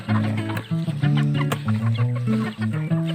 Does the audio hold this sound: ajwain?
no